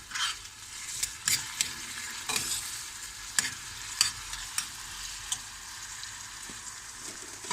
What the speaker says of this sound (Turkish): Şöyle soğanlarımızı kavruyoruz.